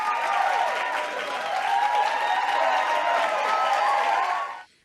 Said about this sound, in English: So let's hear and see a big round of applause for our Employees of the Year.